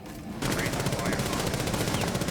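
A sustained, rapid burst of automatic gunfire sprayed through a wall in Rainbow Six Siege during a pro league match, starting abruptly and staying loud and close without pause.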